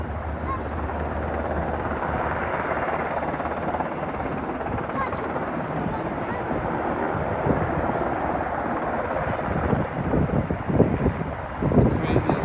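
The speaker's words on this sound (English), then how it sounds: "It's crazy to see the double helicopters filling up at the same time." Two Apache helicopters hover while filling water buckets during a wildfire fight, giving a steady, loud broadband rotor and engine roar with wind buffeting the microphone and some gusty bursts near the end; muffled voices may be present.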